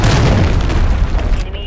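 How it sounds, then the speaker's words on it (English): A cruise missile explodes in Call of Duty Modern Warfare 3 multiplayer, a loud, sustained deep boom with rumbling low end that fills the whole moment before cutting off abruptly near the end. "Hostile cruise missile incoming."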